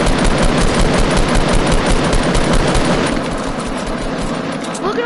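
Rapid automatic gunfire in the video game Fortnite: a dense, loud burst of repeated shots for about three seconds, then tapering into quieter game ambience.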